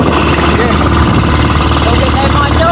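A small fishing boat's engine out on a tuna-fishing trip drones loudly and steadily, a rough, unbroken mechanical rumble with a voice faintly mixed in.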